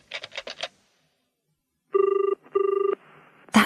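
A telephone rings in two clear electronic double bursts, close and loud, after a brief run of button tones; a short sharp noise follows at the end.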